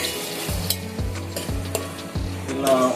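Mutton bones sizzle and fry in hot oil with onions in a pan, a steady crackling hiss broken by regular stirring scrapes about every half second, close and fairly loud.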